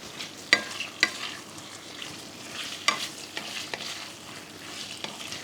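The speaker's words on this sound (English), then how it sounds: "We'll be adding chicken to the onions." Marinated chicken fries with onions in a pot, a soft, steady sizzle broken by sharp clanks and scrapes of a spoon stirring against the metal.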